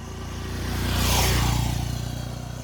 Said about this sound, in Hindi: फिर से कोई बाइक आ रहा है, इसको जाने दीजिए।